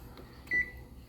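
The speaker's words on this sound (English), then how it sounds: "Let me turn my timer off." A kitchen timer gives a single short, faint beep in a quiet kitchen after a roast chicken comes out of the oven.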